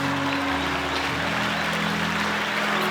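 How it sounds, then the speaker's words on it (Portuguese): A church congregation applauds with a dense, steady wash of clapping, while sustained musical tones hum underneath throughout. "E glorifica a Deus com uma forte salva de palmas"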